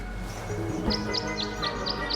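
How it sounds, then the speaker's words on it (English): Birds in the Tangle Tower video game sing a short repeated tune, a series of about six bright chirps evenly spaced over a soft ambient backdrop. "The birds seem to like it. They're even singing a little tune."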